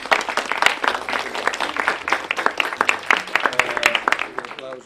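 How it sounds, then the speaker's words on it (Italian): Applause breaks out for the prefect at a photography art exhibition ceremony in a castle, a dense, lively burst of clapping close by, with some voices mixed in. "Applauso del prefetto, di Sua Eccellenza"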